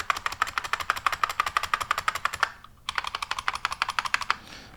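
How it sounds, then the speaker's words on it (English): Rapid, loud clacking from an IBM Model M buckling spring keyboard, each keystroke a sharp spring-loaded click in a steady stream, pausing briefly midway before resuming at the same pace. "So this is called a buckling spring keyboard"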